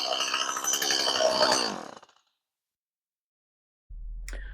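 A STIHL MS180c chainsaw, freshly fitted with a replacement carburetor, runs with a loud buzzing whine before cutting off into silence, then a brief low rumble as it fires back up.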